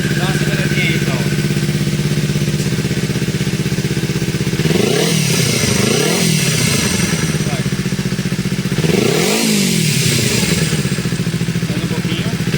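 A Kawasaki Ninja 250 with a noisy engine from a worn tensioner idles with a close, steady rattling hum, then is revved twice in short bursts before settling back to idle.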